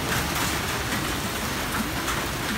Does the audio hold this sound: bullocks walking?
no